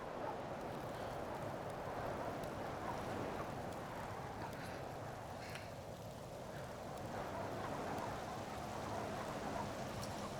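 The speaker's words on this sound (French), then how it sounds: "Oh la vache, les éclairs." Steady rain in a video game pours down as a constant broadband wash with no clear thunder peal, continuous and fairly even in level throughout, with no voices.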